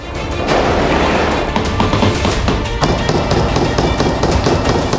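Fighters fire heavily in northern Gaza, a dense and continuous crackle of rapid shots that stays loud and fills the whole stretch.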